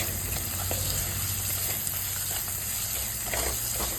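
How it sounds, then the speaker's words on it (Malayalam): Onions sautéing with salt in a pan hiss and crackle in a faint, steady layer with occasional light stirring clicks, close by and with no talking. "ഉപ്പ് കൂടി ഇട്ട് വഴറ്റിയാൽ നമ്മൾ ഉള്ളി പെട്ടെന്നൊന്ന് വഴണ്ടു വരും കേട്ടോ"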